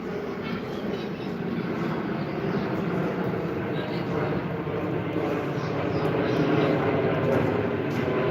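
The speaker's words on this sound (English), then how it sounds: "Look, the plane." A Wizz Air airplane passing overhead, a broad, continuous roaring rumble that holds loud and steady outdoors, with faint talking mixed in.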